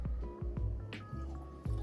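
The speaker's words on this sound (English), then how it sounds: "So I'll give this a pour." Crossborder Jackpot whiskey, a blend of Canadian and American whisky, is poured into a glass: a short run of close, soft liquid glugs and drips under nearly two seconds of quiet pouring.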